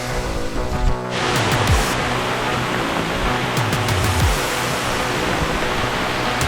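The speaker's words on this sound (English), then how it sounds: "Well, it's big raining on us now" Heavy rain pours down in a forest during a thunderstorm, a loud, dense, steady hiss of falling water that barely changes throughout.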